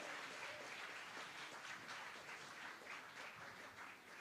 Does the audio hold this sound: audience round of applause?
yes